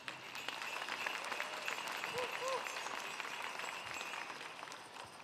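Audience applause at a Lumbee Days cultural presentation, with steady, dense clapping that holds at an even level throughout without fading.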